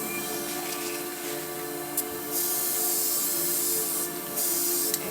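A continuous airbrush hiss spraying black paint, pausing briefly once, then resuming in steady bursts, close by.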